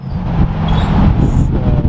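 A Porsche GT2RS drives back past in strong wind, a loud low engine rumble close by that swells toward the middle and eases slightly, with gusty noise over it.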